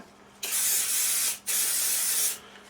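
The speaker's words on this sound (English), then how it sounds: "quick spray of silicone on the blade" Two close, steady bursts of silicone aerosol spray hiss out onto a parang blade, separated by a brief pause, with no voices.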